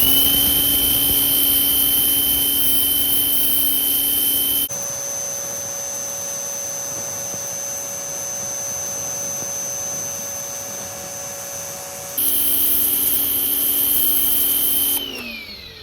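Harbor Freight pressure washer firing through its 0 degree nozzle, a loud steady hissing jet with a shrill tonal whine from the pump; the spray pauses briefly mid-clip to a quieter hum, then resumes at full force.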